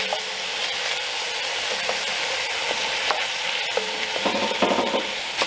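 Tomatoes with lamb shanks, oregano and thyme cook in a Dutch oven, giving a loud, steady sizzle broken by scraping stirs and a few clinks of a utensil against the pot.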